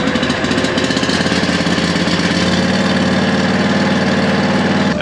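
A small gasoline engine runs at full throttle close by, a loud, continuous buzzing drone with a rapid steady pulse and no pauses.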